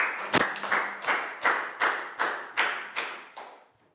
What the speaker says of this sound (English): Big round of applause for Pat too.